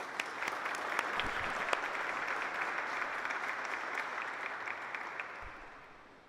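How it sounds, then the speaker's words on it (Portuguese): A crowd applauds steadily at a formal solemn session awarding the José Alencar Diploma, the dense clapping holding even and loud for several seconds before easing off at the end. "Uma salva de palmas, por gentileza"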